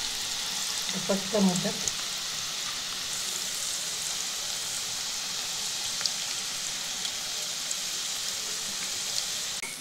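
Marathi-style onion bhaji (kanda bhaji) frying in hot oil, a steady close sizzle with fine crackles throughout; a short spoken phrase sits near the start.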